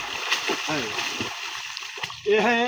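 Feet kicking in river floodwater while a person floats on a tube, making choppy close splashes and sloshing, with a louder burst of splashing at the end; people talk over it.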